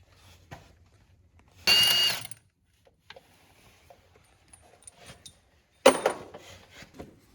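A wrench removes 5/8 bolts from the clutch of a Polaris Ranger 800 XP, giving two short, loud mechanical bursts several seconds apart, with faint clicks and taps in the quiet between them.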